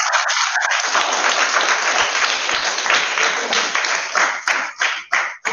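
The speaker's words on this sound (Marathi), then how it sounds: "मुलींसाठी आधी टाळ्या वाजवा सगळ्या" A roomful of schoolchildren claps together in a dense, loud burst of applause that holds steady, then thins into a few scattered final claps.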